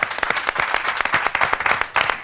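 A studio audience applauds a football guest on a talk show, with dense, lively clapping from many hands, loud and sustained throughout with a few sharper individual claps standing out.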